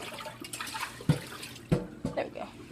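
Water is poured into a small container holding a pet fish in a kitchen, giving a few soft, quiet splashes and trickles in a short sequence.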